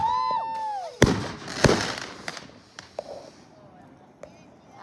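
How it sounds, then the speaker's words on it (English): Outdoor Fourth of July fireworks: whistling rising shells followed by two sharp loud bangs, then several fainter pops and crackles echoing away, with people exclaiming nearby. "Oh, the fireworks."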